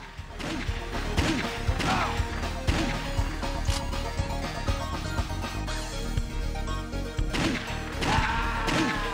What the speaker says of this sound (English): I think if I shoot at glass cabinets, they smash.